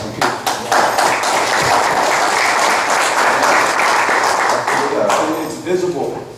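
Applause for city employees at a San Juan city commission meeting, loud dense clapping from the room with a few sharp early claps, a voice speaking over it, then tapering off.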